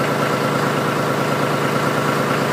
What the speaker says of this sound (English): So I'm just gonna let the tractor warm up for a little bit here.